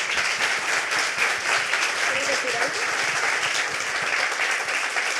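Sustained audience applause at a panel event on gender challenges, a dense, even wash of clapping lasting throughout with no pauses and a faint voice briefly showing under it.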